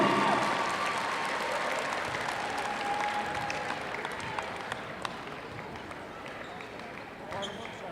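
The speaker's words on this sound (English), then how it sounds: "let's give our student athletes a round of applause." Applause and crowd noise fill a gym at a girls' high school basketball regional championship, loud at first and slowly fading, with a few sharp claps and knocks standing out near the end.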